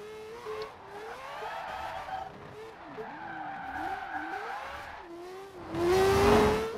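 Tires skid as a 2002 Mazda RX-7 Spirit R Type A drift build slides in Forza Horizon 4, a long wavering squeal under engine drone that swells louder near the end.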